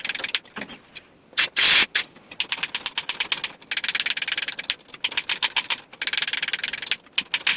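A rapid mechanical clicking ratchet of bicycle gear teeth, spinning in bursts with short pauses between runs, close and fairly loud.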